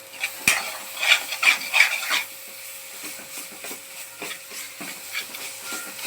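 Chickpea masala with homemade garam masala fries in a pan, with a soft sizzle beneath a few scraping strokes of a spoon stirring and rubbing against the pan, then quieter frying with occasional light taps.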